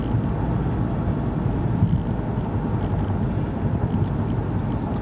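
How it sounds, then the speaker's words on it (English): Steady broadband road and tire roar inside a 2019 Lexus ES 300h hybrid cruising on a freeway, a constant low rumble with faint hiss and no talking. "I hear a tiny bit of road noise, not from the car, but from the cars in front of us and their loud tires"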